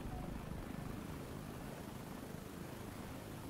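A helicopter in the War Thunder video game drones with a steady, dense rotor and engine rumble that stays even and fairly loud throughout, with no clear speech on top.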